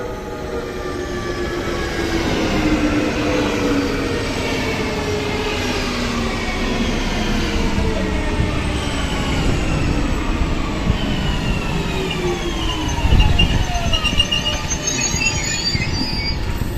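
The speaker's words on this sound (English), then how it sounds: "there's actually a couple of fails, such as this train which overrun the station." A Stockholm commuter rail train overruns the station, rolling steadily past with a loud continuous rumble and long squealing, gliding wheel and brake tones, plus a brief heavier clunk near the end; no voices.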